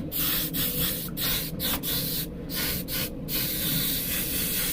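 An airbrush sprays paint onto a skull model for a stone texture effect, a soft close hiss broken into short bursts with brief pauses between them.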